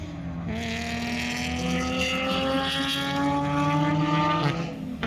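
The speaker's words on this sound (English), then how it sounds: "I lead Phil Finlay's 350Z through the dipper." Race cars at Hampton Downs, including a Nissan 350Z and a 2.5 litre BMW, roar close by with steady high-revving engine tones that rise and shift through a corner.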